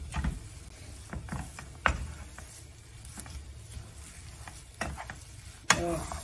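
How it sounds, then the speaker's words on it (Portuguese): Vegan nugget dough being stirred in a frying pan, with a soft steady scraping and sizzle broken by several sharp utensil knocks against the pan, close and moderately loud. "E agora a gente sempre vai mexendo a nossa massa aí"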